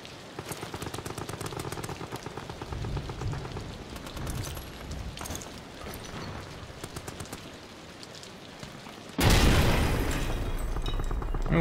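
Rapid gunfire and blasts in the German bunker of Amnesia: The Bunker, with a burst of loud rapid shots, scattered impacts, then a sudden heavy explosion that rumbles on.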